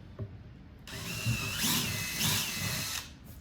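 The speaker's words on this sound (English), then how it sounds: "So I'll drill the hole a little bit too small for my taste, so I'm switching the bit to an 11/64 bit." Power drill boring a hole with an 11/64 bit while installing an audio upgrade kit on a 2022+ BMW K1600 motorcycle; one steady whirring run of about two seconds, close and fairly loud, starting abruptly and stopping sharply.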